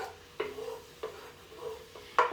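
Butter melting and swirling in a hot pan for chicken piccata, a soft sizzle under a few sharp scraping strokes of a utensil against the pan, close and moderately quiet, with no talking.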